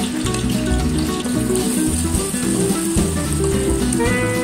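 Loud, steady sizzling and crackling of blended spice paste stir-frying in hot oil, continuous and close with no talking.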